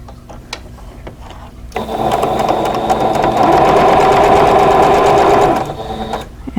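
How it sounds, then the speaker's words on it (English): Domestic sewing machine stitching quilt block pieces for an English Ivy block, a steady close whirring run that starts after a quiet moment and speeds up in the middle before slowing and stopping. "and we'll sew these"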